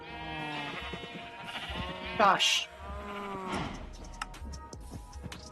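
A sheep in the video game Minecraft, on a modded server, bleats several times at close range, one louder wavering cry standing out, while a person talks over the game sounds.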